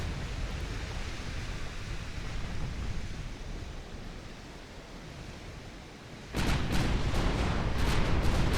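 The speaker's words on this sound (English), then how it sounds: "Looks like the Hattori's smaller caliber guns are now firing." Smaller-caliber guns of a Japanese warship firing in a naval battle game, a dense roaring wash of distant gunfire that turns louder and sharper partway through, with rapid repeated blasts near the end.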